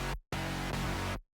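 Serum synth layers double a metalcore guitar line two octaves apart, a short loud sustained burst with hard cuts before and after, no voices.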